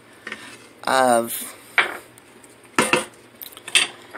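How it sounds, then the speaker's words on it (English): A spoon clinks and scrapes against a pot while stirring chicken Florentine sauce, in a few short separate strokes with a brief spoken word between them. "We're going to give that a little stir."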